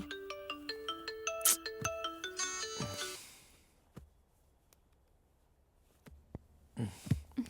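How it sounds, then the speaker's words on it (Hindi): A phone ringtone plays a bright repeating melodic pattern for about three seconds, then stops, leaving quiet room sounds and faint rustling. "किसका फोन आ रहा है"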